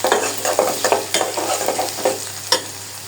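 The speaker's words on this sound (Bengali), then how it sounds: "রসুন পেঁয়াজটা পুরোপুরি ভাবে ভাজা হয়ে গেছে" Onion and garlic frying in hot oil for a dal tempering, a close, steady sizzle broken by repeated scraping strokes of a stirring spoon in the pan.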